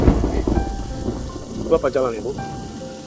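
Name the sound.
rain and thunder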